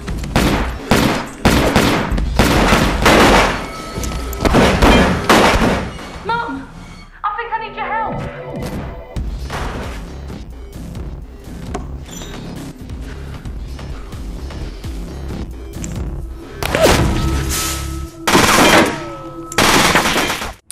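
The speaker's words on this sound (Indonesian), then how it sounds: "Mendengar suara tembakan shotgun" Rapid bursts of loud shotgun fire crackle in volleys, pause during a quieter stretch with voices, then erupt again near the end.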